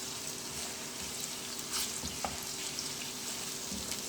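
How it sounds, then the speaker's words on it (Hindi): Onions sizzle in a pan with ginger garlic paste as they are stirred, a steady close frying hiss with light scraping, no voices. "अब मैं इसके अंदर अदरक लहसुन का पेस्ट ऐड कर रही हूँ। ज़्यादा हमने गोल्डन नहीं किया प्याज़ों को। और अब इसको मैं अच्छी तरह मिक्स कर लूँगी।"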